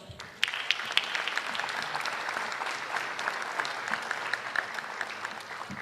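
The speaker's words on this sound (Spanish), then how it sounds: "Lo recibimos con un aplauso." An indoor audience at a human rights forum opening breaks into sustained applause, a dense burst of clapping that starts suddenly and carries on evenly at close, loud level, with no speech over it.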